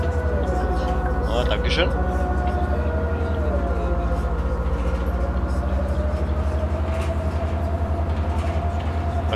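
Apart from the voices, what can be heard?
ambulance siren in video game Bus Simulator 16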